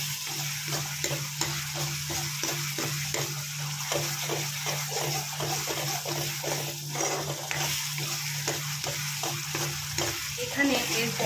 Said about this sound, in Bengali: তো এটাকেই আমি ভালো করে ভেজে নেব।